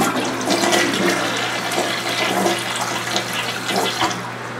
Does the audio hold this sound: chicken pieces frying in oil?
no